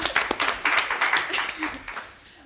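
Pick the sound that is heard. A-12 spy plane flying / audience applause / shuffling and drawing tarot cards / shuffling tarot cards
audience applause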